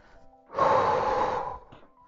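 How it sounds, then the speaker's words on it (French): During a golf core exercise, balancing with a ball held in the hands, a person gives one long, steady exhalation that swells and fades over about a second, close and clear, with no speech. "Et je respire."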